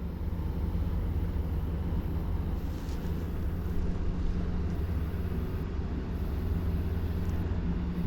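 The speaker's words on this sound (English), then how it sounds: "Looks like somebody's out for a spin in their boat." A constant low engine drone from a passing motorboat at Barry Island, steady and moderately distant, mixed with wind buffeting.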